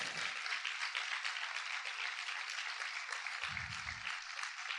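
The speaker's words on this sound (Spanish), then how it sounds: "Vamos a aplaudir fuerte a nuestro Dios." A church congregation applauds together during a sermon, a broad continuous roar of clapping that fills the space, with a brief low voice or thump near the end.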